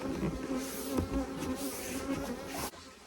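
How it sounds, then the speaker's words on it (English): Dense, continuous buzzing of many honeybees close by around a hive box, a steady droning swarm with no voices. "There are loads of bees in this box"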